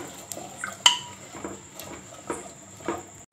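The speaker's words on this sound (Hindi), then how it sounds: "इसके बाद हम इसमें डालेंगे चने अपने। और इनको भी अच्छी तरह से मिक्स करेंगे।" A utensil stirs chickpeas into spiced masala in a pan for a black chickpea curry, making a few sharp metallic clinks and scrapes with soft wet mixing between them, close and fairly quiet.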